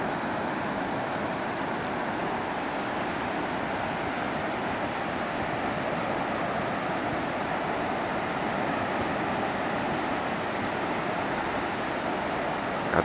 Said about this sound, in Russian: Волны тут, песок подняли они.